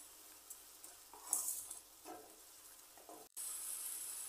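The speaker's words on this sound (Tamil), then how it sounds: "வெங்காயம் வந்து நல்லா வதங்கணும்" Onions sauté in a pan for a prawn gravy, a faint sizzle broken by sporadic stirring taps and scrapes, then a steadier hiss toward the end.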